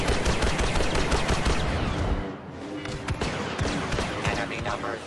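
Blaster gunfire in Star Wars Battlefront II, a continuous loud barrage of rapid shots with a short dip partway through, dense battle noise throughout and no clear talking.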